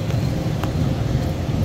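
Road traffic rumbles steadily, with low engine and tire noise from passing vehicles, heard up close and continuously with no speech.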